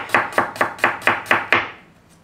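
A knife slicing through an onion on a cutting board, seven evenly spaced crisp chops close up, then a short fading tail.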